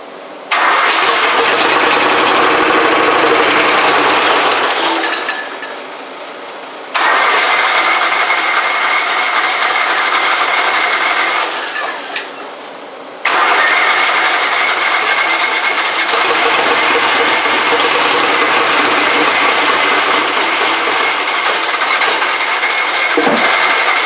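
A small engine cranks and fires up after its carburetor is primed, running loud and steady in a workshop, cutting out twice briefly before restarting and carrying on with a continuous buzzing drone.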